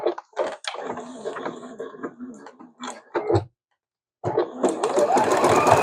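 A Juki sewing machine stitching in bursts, with a rapid whirring, ticking needle run that pauses briefly for about a second. It then starts up again and speeds into a steady, close hum.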